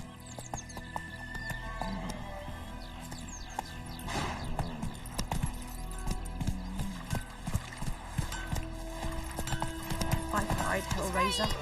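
Hooves of the horse Roach clip-clop at a run in a steady rhythmic beat, with a neigh or whinny and people talking over the galloping.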